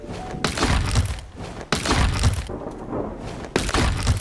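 Repeated sharp cracking thunks of trees being harvested in the video game Sunkenland, four heavy hits spaced about a second apart, each followed by a crunchy, splintering rustle, close and loud.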